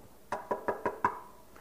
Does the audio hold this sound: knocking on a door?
yes